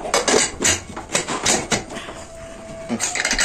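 Metal pressure cooker lid being set on and closed while making goat head curry, a burst of close clanks, scrapes and clicks followed by a brief sliding rub and a final clatter.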